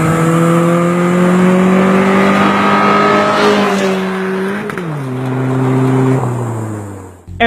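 A manual-transmission car engine revving loud and close, its steady drone rising in pitch, then dropping sharply as a gear shifts and climbing again before cutting off.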